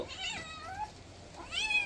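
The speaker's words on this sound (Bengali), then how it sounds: "ম্যাও ম্যাও ম্যাও বলে আমাকে ছাড়ো আমাকে ছাড়ো" A cat meows twice, drawn-out rising and falling cries close by, with a short pause between them.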